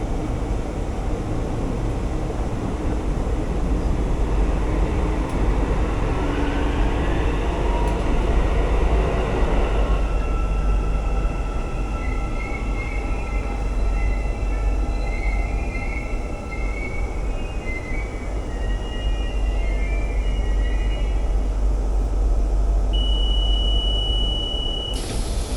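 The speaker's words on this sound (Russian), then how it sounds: "Обратите внимание, как плавно поезд трогается и ускоряется." Almaty metro train pulling away smoothly and picking up speed, heard from inside the car: a steady rumble with a motor whine that climbs in pitch and then settles, with no talking.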